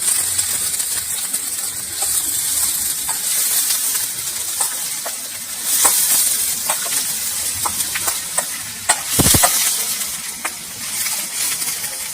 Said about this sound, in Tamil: கட் பண்ணி வச்சிருந்த காயெல்லாம் ஒண்ணா போட்டு வதக்கணும்.